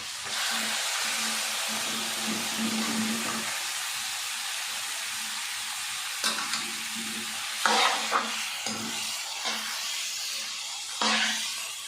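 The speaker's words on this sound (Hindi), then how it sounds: "जी, तो हमारी गोश्त की अच्छे से बुनाई हो रही है।" Beef karahi meat sizzling and frying in a pot with crushed ginger and garlic, a steady hiss throughout with repeated scraping stirs clattering in near the end.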